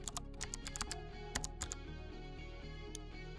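Rapid clicking of a computer keyboard as a username is typed, quick bursts of close, light keystrokes with short pauses between.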